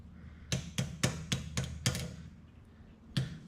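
A hammer taps repeatedly on the end of a copper rod while shaping copper art, with six quick sharp strikes in a steady rhythm, a pause, then one more. Each hit has a slight bouncing ring, close and fairly quiet.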